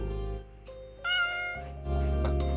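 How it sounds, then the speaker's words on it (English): A cat meows inside a horror video game, its tonal, rising cry standing out clearly over a droning game soundtrack, with no talking during the short stretch. "Also, I heard a cat."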